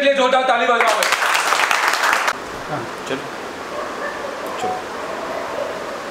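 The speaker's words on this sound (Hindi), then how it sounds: "जोरदार ताली बजाओ" Students in an online class clap loudly together, a dense burst of applause that stops abruptly after about two seconds, with talking at the start.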